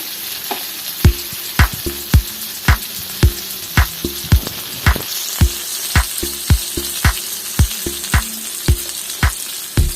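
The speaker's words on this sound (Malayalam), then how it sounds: "ഇതേപോലെ നമ്മൾ എല്ലാ സൈഡും ഫ്രൈ ആവുന്ന രീതിയിൽ ഒരു 2 മിനിറ്റ് കൂടുമ്പോൾ ഒന്ന് മറിച്ച് കൊടുക്കണം." Chicken drumsticks fry in a pan with a steady, close sizzling hiss, punctuated by sharp, regular clacks from stirring or turning roughly every half second throughout.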